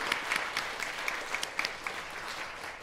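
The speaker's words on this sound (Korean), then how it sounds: "다시 한번 우리 격려의 박수 한번 부탁을 드립니다." Church congregation applauding a choir conductor during a service, a steady wash of clapping with scattered sharper claps, moderately distant and continuous throughout.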